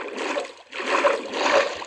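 Water surges and washes past in a Minecraft game, two or three soft whooshing swells in quick succession, moderately loud with no talk.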